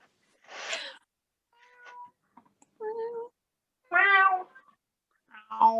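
A cat gives several short meows spaced across a few seconds, close and fairly clear, with quiet gaps between calls and no talking over them.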